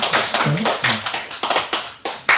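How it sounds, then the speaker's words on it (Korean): A church congregation claps during a Sunday service, a loose series of sharp, close claps in an uneven rhythm, with a brief murmur of voices mixed in. "우리 박수 한번 같이 해주시면"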